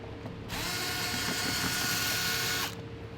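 A ratchet or power tool spins out the 10mm bolts on the intake box of a BMW E9X M3 with the S65 engine, one steady buzzing whir of about two seconds, close and alone.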